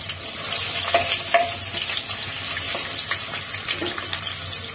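Onion paste frying in a pan with garam masala for a cauliflower curry, a steady soft sizzle with occasional stirring scrapes, no talk.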